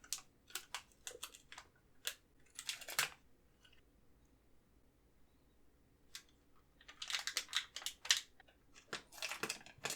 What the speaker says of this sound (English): Now wrap some tape on both of the cut ends of the watercolors